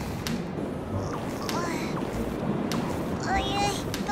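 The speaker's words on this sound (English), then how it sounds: "The wind is so strong." Strong gusting wind in a cartoon storm blows steadily and loudly throughout, with water-like rushing and short voice or effect chirps mixed in.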